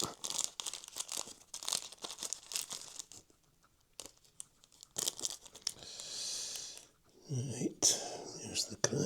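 Small plastic bag of model locomotive repair parts rustled and crinkled while being searched, soft crumpling and tearing-like rustles close by, with quiet breathy murmuring in places.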